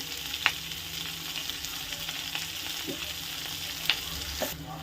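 Garlic and turmeric powder frying in a pan for onion chutney, a low steady sizzle with a few sharp stirring scrapes and clinks, close by with no talk.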